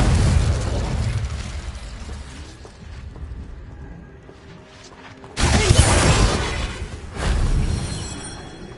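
An Incendio fire spell blasts in Hogwarts Legacy, a loud booming burst that fades into a rumbling tail, then a second heavy explosive hit and a further surge of rumbling flame.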